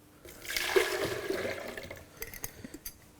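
Water pours into a blender jug for a raw doughnut mix, a loud gushing splash that swells over a second or two, then trails off into scattered drips and small knocks.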